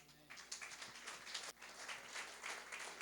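A church congregation at a family worship service applauds, a soft, distant spread of clapping that stays fairly even for a few seconds.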